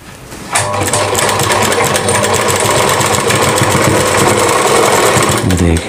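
A sewing machine stitches a fabric strip onto an umbrella-cut lehenga, starting abruptly and running at a fast, steady hum with a rapid needle rattle, close and loud, before stopping.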